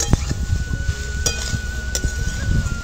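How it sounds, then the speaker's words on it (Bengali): Bottle gourd with spices stirred in a hot pan, a close, continuous sizzle with soft scraping strokes and a couple of sharp spatula clinks against the metal. "একটু নাড়াচাড়া করে নিলাম লাউটা।"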